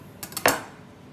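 A knife slicing through a small, not fully mature garden onion on a board in a home kitchen: a few quick, light chops followed by one sharper, louder cut, close and alone.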